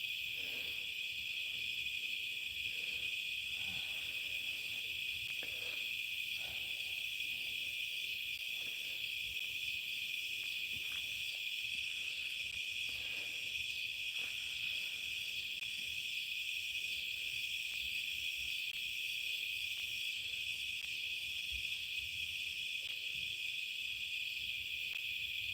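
Insects chirp loudly and continuously at night on a farm, a steady high-pitched drone with no break, with faint low background rustles beneath it.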